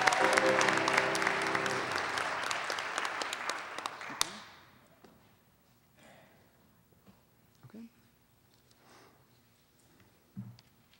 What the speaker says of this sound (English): Big round of applause for our round six spellers.